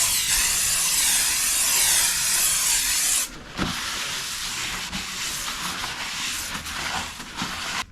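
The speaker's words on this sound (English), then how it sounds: "Plenty of brake cleaner just to remove the wax or grease that are applied to protect them in transit" Brake cleaner sprayed onto new front brake discs of a 1999 BMW Z3 2.8 Roadster, a loud steady aerosol hiss for about three seconds, then quieter rubbing and scrubbing sounds alone.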